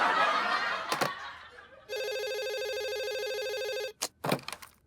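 A telephone rings loudly with a sustained electronic bell tone lasting about two seconds, preceded and followed by short bursts of laughter and voices in a comic domestic setting.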